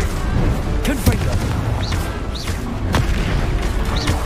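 Several booming blasts from the Confringo explosive spell in Hogwarts Legacy burst out in quick succession over a dense, noisy game soundscape, each impact sharp and loud.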